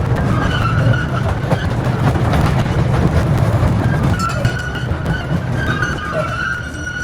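A mine tour train rolls through the Strataca salt mine 650 feet underground, a steady loud rumble and rattle of wheels on track with squealing metallic tones, continuous throughout and gradually easing toward the end.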